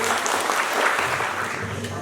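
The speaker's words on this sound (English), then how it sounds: "Let's welcome him with a big round of applause" Audience applause welcoming a pastor onto the stage at a Harvest Revival gathering, a thick, even roar of clapping heard throughout, with a low steady hum beneath.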